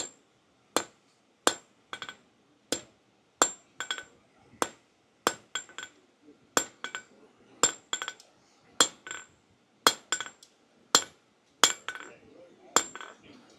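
A hammer forges a steel bar on the end of an anvil, about twenty sharp ringing metallic strikes in a steady rhythm, often paired as a blow and a lighter tap, close and loud with quiet between hits.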